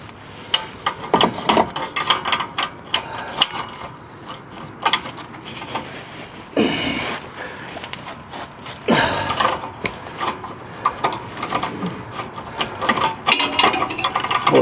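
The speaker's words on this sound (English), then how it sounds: "My ratchet." A hand ratchet clicks in repeated bursts while working on an oxygen sensor replacement on a car, with close mechanical ratcheting and metallic tool noise throughout.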